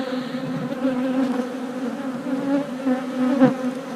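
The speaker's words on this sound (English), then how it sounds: "Some unhappy bees on us, don't we?" Agitated honeybees swarm around an open beehive with honey and brood frames, a close, continuous droning buzz with shifting pitch as individual bees pass near.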